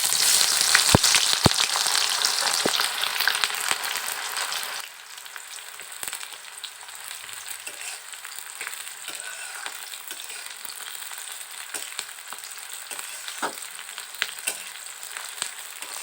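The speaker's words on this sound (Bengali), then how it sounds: "এবারে এ পর্যায়ে এর ভিতরে পেঁয়াজগুলো দিয়ে দিব।" Onions frying in hot oil in a pan, a loud bright sizzle at first that settles into a quieter steady crackle with occasional stirring scrapes.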